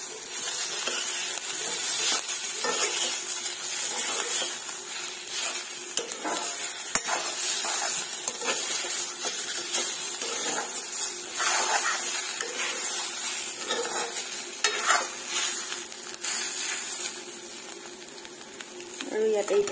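Rohu fish head frying in a pan while being stirred, a steady sizzle with repeated scraping strokes throughout and a faint voice at times.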